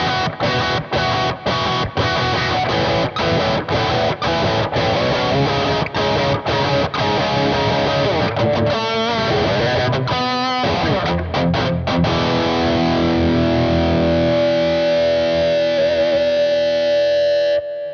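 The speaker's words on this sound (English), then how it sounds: "Kick it up a notch and add a drive pedal in front, distortion. This is the Kemper Drive." An electric guitar plays chugging palm-muted riffs and sustained chords through a Kemper Drive distortion pedal into a Marshall JCM800 amplifier, loud and saturated, ending on a ringing held chord.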